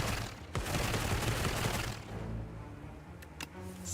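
Double Barrage attack in the video game Slay the Spire: a loud, dense burst of rapid gunfire-like blasts for about two seconds, then a quieter tail with a couple of sharp cracks.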